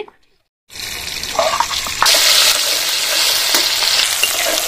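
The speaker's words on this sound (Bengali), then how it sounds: "টমেটোটা একটু লাল লাল করে ভেজে নিতে হবে।" Chopped tomatoes hit hot oil seasoned with nigella seeds and spices, bursting into a loud, close hissing sizzle after a moment of silence, then frying steadily with stirring.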